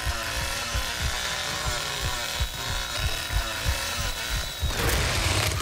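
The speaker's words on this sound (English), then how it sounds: "if I literally mess up my chainsaw attack" Chainsaw attack in the Texas Chain Saw Massacre video game, a continuous loud revving saw drone with rhythmic throttle pulses and a rougher surge near the end.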